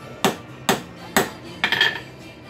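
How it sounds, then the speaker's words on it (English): Four hammer blows setting a rivet on rail spike hinges, three sharp evenly spaced metallic strikes followed by a quicker cluster of lighter taps, close and loud over quiet. "we get to set the rivet."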